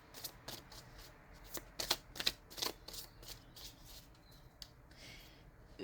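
Tarot-style cards being shuffled for a card reading, giving a run of quick, close, crisp riffling bursts with short pauses between them, moderately soft and with no talking.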